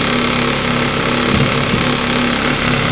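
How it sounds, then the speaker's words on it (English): A small Yamaha motor fitted with a brand new carburetor runs steadily and loudly up close, a continuous rapid engine rattle with no speech over it. "So I put a brand new carb on there. And the little motor runs fantastic."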